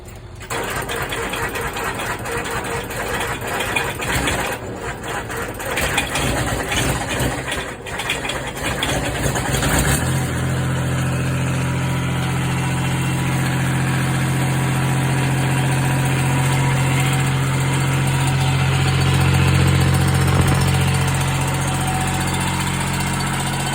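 A 782D engine starting cold at 35 degrees, first rough and uneven, then settling into a steady, close mid-pitched idle hum with a constant vibrating drone that lasts for the rest of the stretch.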